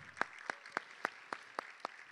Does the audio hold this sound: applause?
yes